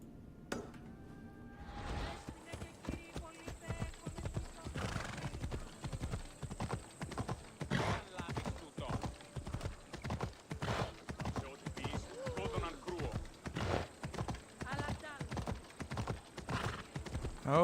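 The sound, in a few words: horse hooves while riding, from video game Assassin's Creed Odyssey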